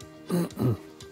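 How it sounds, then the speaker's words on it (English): Two quick, dry coughs close to the microphone, one right after the other, with quiet around them. "a dry cough"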